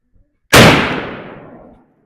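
A single loud, sharp blast from a Henry Long Ranger .308 rifle on a 100-yard range, echoing and rolling off over about a second in otherwise quiet surroundings.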